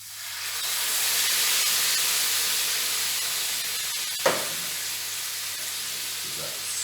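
Canned chopped tomatoes sizzle and hiss steadily in a hot pan with oil, a close broad frying hiss that swells then eases, with a brief clatter partway through.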